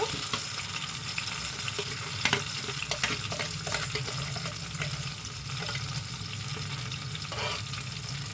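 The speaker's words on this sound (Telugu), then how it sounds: "దీంట్లోకి కొంచెం వాటర్ అనేది ఒక గ్లాస్ అనేది యాడ్ చేస్తున్నానండి" A glass of water is poured into a pan of stuffed brinjal (guthi vankaya) curry over a medium flame, giving a steady close hiss and sizzle with faint splashing and no voices.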